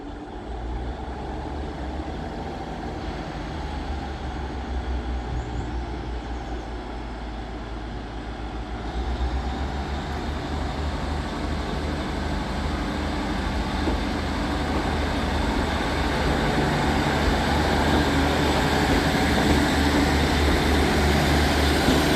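A Class 150 diesel train, unit 150-227 of Transport for Wales, pulls out of Crewe station with a steady engine rumble that slowly grows louder as it builds speed.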